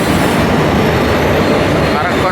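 A train hauled by an Arakkonam WAP-4 electric locomotive with LHB coaches rolls into Lingampalli platform 2, a loud, dense, continuous rumble of wheels close by.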